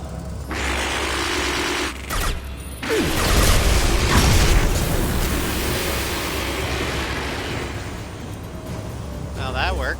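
An explosive canister goes off in Mass Effect 2 with a loud booming blast and a rumbling swell that lingers for several seconds amid game sounds, and voices talk over it.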